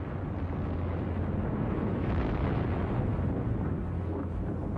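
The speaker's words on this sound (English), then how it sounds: "The Allies have begun firebombing Germany's cities." Bombs from Allied air raids on German cities explode in a dense, rumbling roar of blasts that rolls on steadily and heavily throughout, without clear gaps.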